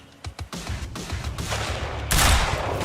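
Sniper gunfire in the video game Quantum Break, a few sharp close shots and then a louder burst of gunfire near the end, with no talking over it.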